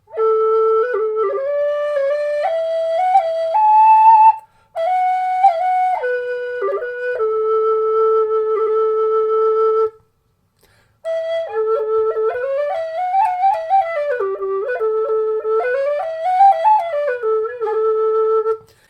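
A Carbony Highland whistle with bagpipe fingering plays a burl and other ornamented melodic phrases, clear and close, in several sustained passages separated by brief pauses.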